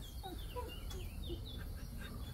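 Chickens cluck and chirp in a Romanian vegetable garden, a cluster of short, close, overlapping calls over a low background rumble.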